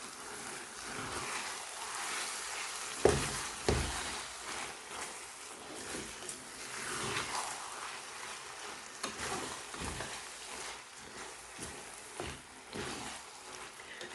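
Minced lamb and potato curry with coriander leaves sizzles steadily in a pan while a spoon stirs it, giving occasional soft knocks and scrapes over a continuous frying hiss.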